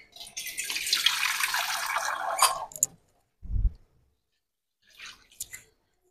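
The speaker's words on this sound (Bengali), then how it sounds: "দুধ দেওয়ার পরে আমি দিয়ে দেবো পরিমাণ মতো পানি।" Water poured from a container into a pot of chicken biryani after milk is added, a steady splashing pour lasting about three seconds. A few brief clunks and trickles follow.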